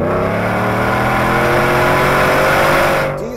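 A supercharged V8 Ford F-150 with a Borla Ford Performance exhaust revs loudly up close, a deep rising engine drone with clear harmonic tones climbing steadily before easing off at the end.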